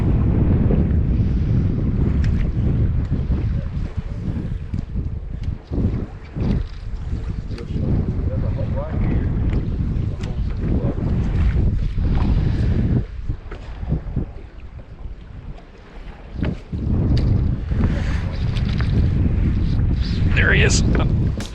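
Strong wind gusting over open water on a fishing boat during fly fishing, loud buffeting roar across the mic with surging, uneven bursts throughout.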